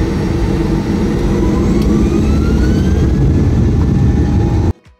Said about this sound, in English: we pushed back and made our way to the active runway for our departure